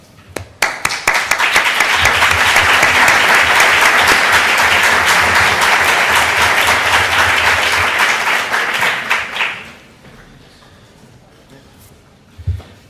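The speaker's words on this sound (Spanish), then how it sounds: "le debemos un merecido aplauso" A seated audience at an education conference's opening session bursts into sustained, loud applause that swells quickly, holds steady for several seconds, then tapers off, leaving a quiet room with a few scattered claps.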